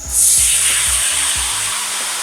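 Tofu batter poured from a height into hot frying oil, bursting into a loud, steady sizzling hiss that rises quickly and holds, with faint low bumps of handling underneath.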